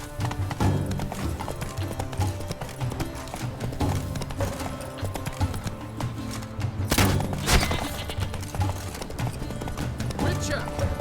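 Hooves of the horse Roach clip-clop steadily in The Witcher 3, a continuous rhythmic trotting patter under game music and voices talking.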